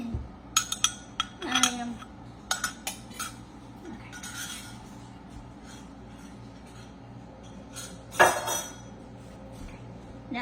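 A utensil scrapes and clinks against a pot, working melted cheese out of it in short bursts of metallic scratching, with a louder scrape near the end and a brief voice.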